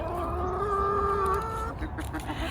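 Chickens cluck and murmur nearby, with one drawn-out vocal call rising over soft continuous farmyard clucking.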